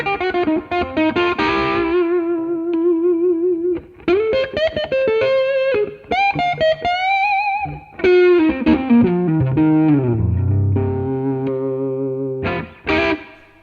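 Crunchy, mildly overdriven Gibson SG through a Blackstar Artisan 10 anniversary tube amp, a 10-watt amp with a single EL34 power tube, playing bluesy British-style phrases: bent single notes and short licks with brief pauses, loud and close.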